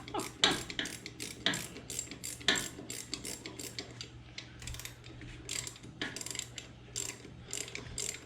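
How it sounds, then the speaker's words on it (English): A ratchet wrench tightens bolts on a Jaguar independent rear suspension, giving repeated close bursts of sharp metallic clicking in uneven strokes with short pauses between. "this is where you see that having a ratchet is so much better"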